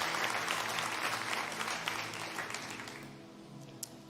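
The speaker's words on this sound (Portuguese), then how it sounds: "Você pode aplaudir o nome do Senhor." A congregation applauding at a church service, a fairly faint wash of many hands clapping that fades over a few seconds, leaving a last few scattered claps.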